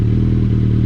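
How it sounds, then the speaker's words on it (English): A Suzuki Hayabusa motorcycle engine running close by, a loud, steady low rumble with a dense idle throb throughout, no clear rise in pitch. "Little bit rev you can give."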